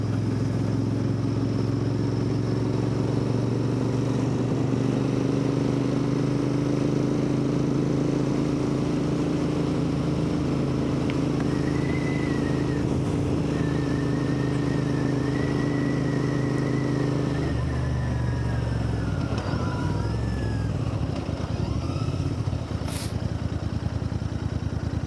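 A Royal Enfield Interceptor 650 rides along countryside roads, its engine thrumming steadily under wind noise, then dropping in pitch as it slows and gears change, close and continuous.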